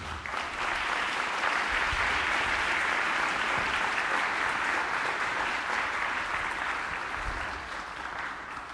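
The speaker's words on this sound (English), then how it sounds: "thank you for applauding" Sustained audience applause fills the room at a teacher literacy workshop, a dense, steady wash of clapping that holds loud for about nine seconds before easing slightly near the end.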